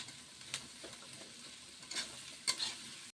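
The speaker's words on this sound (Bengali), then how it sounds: "এটা কাঁচামরিচ পেঁয়াজের উপরে ভাজবো।" Green chillies and onions frying in a pan, a faint steady sizzle broken by a few soft stirring scrapes and clinks close by.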